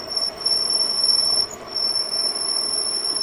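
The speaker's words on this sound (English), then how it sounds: "they actually have a little train that you can ride with your kids and stuff" A small ride-on park train running on its tracks, giving a steady loud rolling rumble with high sustained wheel squeal throughout, briefly dipping once midway.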